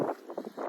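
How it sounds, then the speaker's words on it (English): Strong wind gusts buffet the microphone on a mountain trail of the Pacific Crest Trail, climbing up from the desert, a close, uneven rumbling roar that swells and dips in short bursts. "Super windy, and I don't mind the wind."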